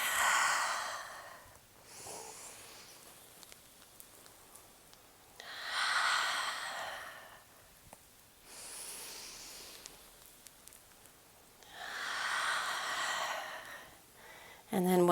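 Slow, deep breaths during a prenatal yoga flow, with three long, soft airy exhales spaced evenly apart, close and quiet, with faint rustling in between.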